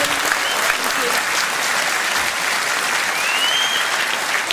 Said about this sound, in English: Please give a warm round of applause to my 2 guests this evening, June Mummery and Robin Hunter-Clark.